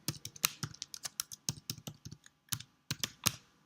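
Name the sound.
typing a username on a computer keyboard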